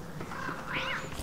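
A catcoon creature in the video game Don't Starve Together lets out a short rising cry over a steady, noisy game ambience.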